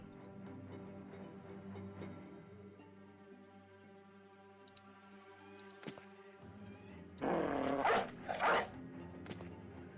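War dogs set loose in the Battle Brothers Blazing Deserts game: a brief burst of snarling, barking commotion rises near the end over a quiet, steady backdrop of low ambient tones.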